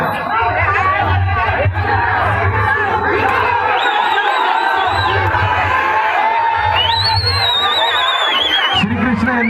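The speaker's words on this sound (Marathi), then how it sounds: "जोरदार टाळ्या त्यांच्यासाठी श्रीकृष्ण गोविंद पथक" Large outdoor crowd at a Dahi Handi human-pyramid event in Maharashtra, cheering and shouting for the Shri Krishna Govind squad, a loud continuous roar of voices with whoops and calls throughout.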